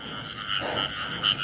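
A frog croaks during a night frog hunt in a rice field, with the calls arriving as a few moderately loud pulses over a steady insect-like hiss and faint background noise.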